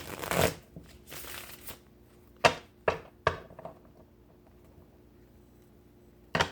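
Tarot cards being shuffled by hand: two longer riffling bursts at the start, then several sharp, separate card slaps and taps, close and fairly quiet with no talking.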